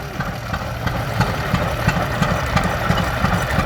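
A vintage tractor engine runs at a steam rally, a steady close chugging idle with rhythmic low knocking pulses and no talk over it.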